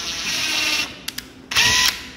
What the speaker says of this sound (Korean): 우선은 기준이 되는 구멍을 하나 뚫어 놓겠습니다.